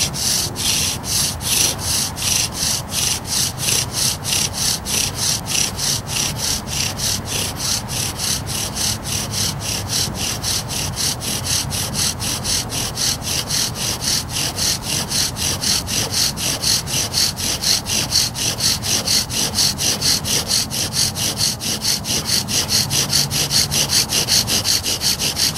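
A bow drill spins a redwood spindle from dead standing timber against a fireboard in wet weather. Rhythmic rasping strokes repeat rapidly and evenly for the whole stretch, loud and close, with no speech.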